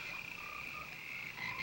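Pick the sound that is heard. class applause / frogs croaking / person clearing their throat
frogs croaking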